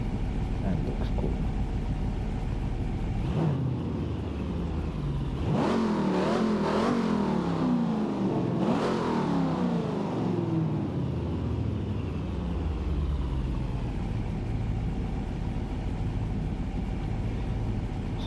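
A De Tomaso Mangusta engine in Gran Turismo 7 rises and falls through several revving sweeps under a steady rumble, with a voice talking over parts of it.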